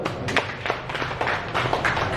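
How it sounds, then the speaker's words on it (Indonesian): Scattered applause from an audience at a property agents' member gathering, a moderate mix of irregular hand claps in a room, fairly close and continuous for a couple of seconds. "Tepuk tangan dulu dong."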